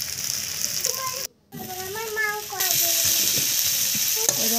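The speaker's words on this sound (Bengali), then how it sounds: "এবারে কেটে রাখা আলু আর রসুন এখন ভেজে নেব।" Potato and garlic sizzle steadily in a frying pan for a Maggi noodle dish, with a brief silent break and brighter, louder frying after it, and faint tonal voice-like sounds in the background.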